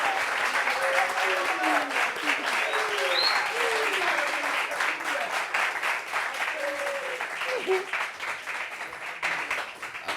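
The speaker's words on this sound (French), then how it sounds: "On applaudit pour lui" A studio audience on a talk show applauds a guest with steady, lively clapping that lasts throughout, while voices call out over it.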